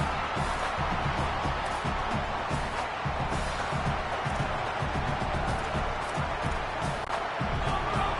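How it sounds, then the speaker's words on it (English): Stadium crowd in an NCAA college football video game, a broad, continuous cheering roar that stays loud throughout, with a commentator's voice heard over it. "This crowd even louder now on second down as they try to hold on."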